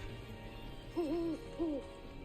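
An owl in the Apex Legends video game gives two distinct hoots about half a second apart, clear and moderately loud over a faint ambient hum.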